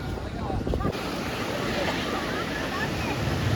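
Surf rolls steadily on Tarkarli beach, a broad continuous wash of waves mixed with wind buffeting the microphone, with brief voices near the start.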